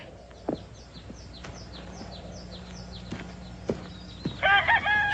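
A rooster crows loudly near the end, preceded by scattered bird chirps and a few soft clucks against a quiet outdoor background.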